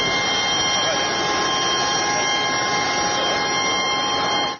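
A departing airplane's jet engine roars loud and steady with a high whine, staying constant before cutting off abruptly at the end.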